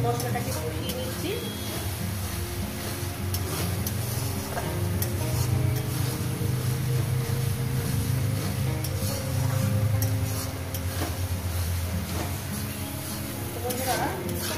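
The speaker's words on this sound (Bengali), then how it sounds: "দেখতেই পাচ্ছেন বন্ধুরা আমি কীভাবে মশলাটাকে কষিয়ে নিচ্ছি।" Spice masala sautéing and being stirred in a pan for a spicy curry of Dicey Bele fish, a steady low sizzle with scraping stirs running throughout, partly under a voice speaking.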